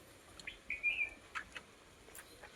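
A sparrow chirps at its nest in a tree, giving a few brief high chirps and one short trill, faint and somewhat distant against quiet outdoor air.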